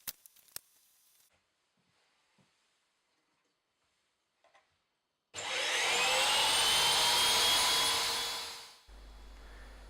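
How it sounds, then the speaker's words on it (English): A table saw rips thin strips of hardwood, its steady loud whine rising after a quiet stretch with a few faint knocks, running for about three and a half seconds before winding down to a lower hum. "cut some thin strips of hardwood the same width as the table saw curve"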